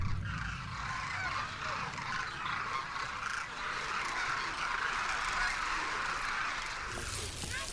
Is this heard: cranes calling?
yes